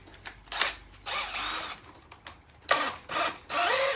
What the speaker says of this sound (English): I always start it with the drill.